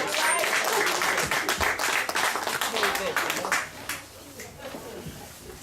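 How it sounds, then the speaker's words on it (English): An audience gives a steady round of applause welcoming a speaker, dense clapping close by that thins and fades toward the end, with voices mixed in. "welcome him with another strong round of applause"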